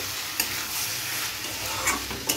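Steady sizzling of spices being sautéed in a hot pan for an egg curry, with a few sharp scraping clicks as a spoon stirs them around.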